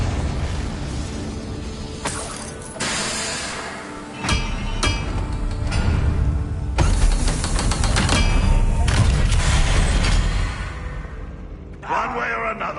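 Confringo blasting-curse spells in Hogwarts Legacy go off as a run of heavy booming blasts and rumbling impacts, loud and close, with brief gaps between bursts and a voice shouting over the action.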